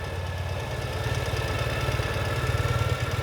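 A 2019 Ural Gear Up sidecar motorcycle engine idles steadily and close by, with a low, even, thumping pulse that firms up slightly toward the end.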